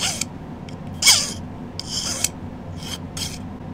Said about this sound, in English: And then I'll use my rotary tool.